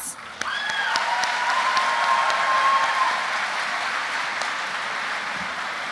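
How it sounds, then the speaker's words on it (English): Audience applause at a school summer program closing ceremony, an even wash of many hands clapping that swells and then holds steady, heard without talk. "And let's all give a huge round of applause to our hosts."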